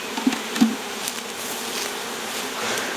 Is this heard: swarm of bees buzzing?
yes